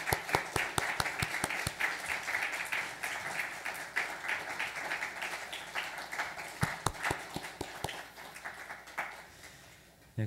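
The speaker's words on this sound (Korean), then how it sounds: "우리 축복하며 격려하는 박수로 하며 퇴장하도록 하겠습니다" A church congregation applauds as a Sunday worship service ends, a long stretch of steady, moderately distant clapping from many hands that gradually thins and fades toward the end.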